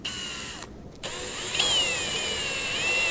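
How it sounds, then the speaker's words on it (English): A power drill pre-drills holes in a food truck seat frame, running in loud whining bursts with a brief pause and then a long, steady run where the pitch rises and dips under load. "Let me pre-drill these"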